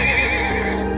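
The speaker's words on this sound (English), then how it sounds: "Horses are so awesome, dude." A horse whinnies in the video game Trails of Cold Steel II, one loud, drawn-out neigh that fills the whole moment, with faint hoof clatter beneath it.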